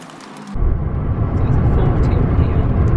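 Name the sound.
car being driven by a learner driver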